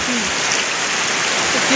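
Hard rain pours in a steady, loud hiss with no break, a brief outdoor burst where faint voices barely rise above the downpour.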